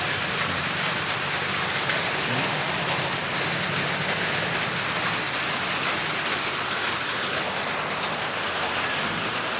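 A loud, steady roar of rushing floodwater fills the clip, dense and unbroken like a torrent pouring past nearby.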